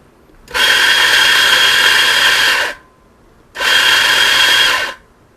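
An espresso coffee grinder grinds beans in two bursts, each a loud, steady whirring drone lasting about two seconds with a short pause between, close by and without speech.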